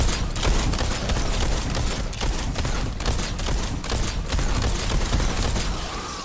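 The Smasher, a steampunk weapon in Fortnite Save the World, fires rapidly, with dense repeated shots merging into a continuous, loud volley that lasts the whole stretch without pauses.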